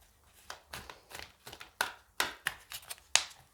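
A deck of tarot cards is shuffled by hand, a quick series of crisp riffling snaps and taps, close and fairly quiet, with no talk.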